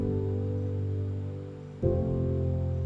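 Sustained synth chords in Ableton, colored with added 7ths and 9ths: one held chord fades slightly before a fresh chord strikes and rings on, smooth and steady with no voices.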